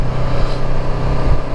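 A motorcycle engine drones loudly and continuously, close to the microphone, with a low rumble and heavy wind buffeting while riding through the hills.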